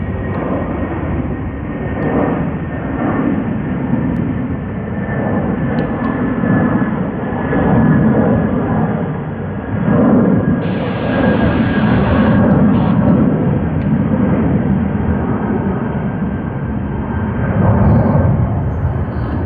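A Qantas airliner at Sydney Airport, a loud, sustained jet engine roar with a steady whine, swelling and easing slightly over about twenty seconds as it runs at a distance.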